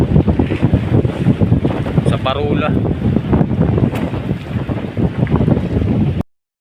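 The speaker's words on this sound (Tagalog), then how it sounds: "napakalaki ng alon dito mga idol oh" Huge storm waves surge and crash at the coast of General Luna, Quezon, under strong gusting wind buffeting the microphone, a loud continuous roar with someone talking over it.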